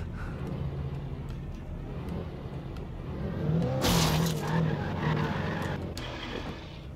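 Car engine droning steadily in Alan Wake Remastered, swelling midway into a loud burst of tire skid and scraping before settling back to a running hum, with no talking.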